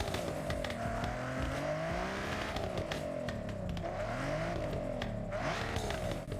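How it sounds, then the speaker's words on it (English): A video game car fitted with a racing exhaust revs and drones continuously, pitch rising and falling as it accelerates and shifts, with a raspy exhaust tone and no voices. "Listen to the sound it makes with the racing exhaust."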